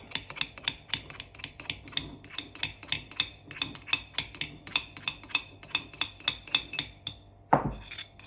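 A teaspoon repeatedly scrapes broccoli sprouts down inside a container, producing a steady run of close, light clinking scrapes with a slightly heavier knock near the end.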